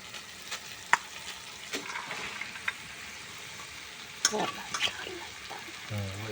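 Spice masala fries and is stirred in a pan as lentils go in, giving a continuous close sizzle with scattered scrapes and clinks and a faint voice at moments.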